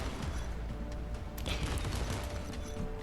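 Dense, continuous anti-aircraft fire from a carrier in Modern Warships, a steady rumbling barrage of cannon bursts against the USS Arleigh Burke, loud and unbroken with no voices.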